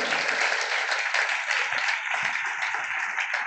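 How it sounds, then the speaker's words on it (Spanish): A church congregation applauds during a Sunday school service, a steady, moderately loud wash of clapping with occasional voices beneath it. "Denle un aplauso al Señor."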